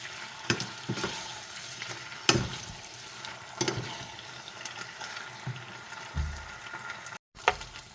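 Kwetiaw noodles stir-fried with two ladles: a soft sizzle under repeated sharp metallic scrapes and clacks of the ladles against the pan, scattered irregularly, with a brief dropout near the end.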